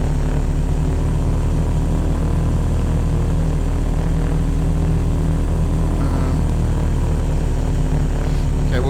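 A steady, loud aircraft engine drone from the Prepar3d 2.5 flight simulator game, flying circuits around Manhattan, runs continuously throughout with a constant propeller-like rumble.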